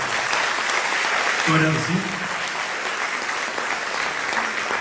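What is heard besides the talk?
round of applause for graduating seniors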